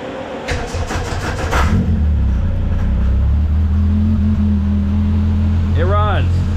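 A Polaris RZR Pro R side-by-side fitted with an aftermarket turbo fires up and settles into a loud, steady running drone, with a rising whistle-like sweep near the end.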